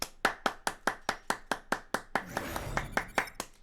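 A single person clapping hands in a quick, even rhythm, about a dozen sharp claps close by, with a brief noisy rustle partway through.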